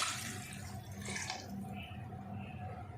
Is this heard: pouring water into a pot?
yes